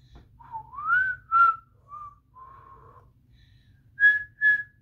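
A person whistles the melody of Jingle Bells alone in a quiet room, a series of clear sustained tones and short repeated notes, fairly soft.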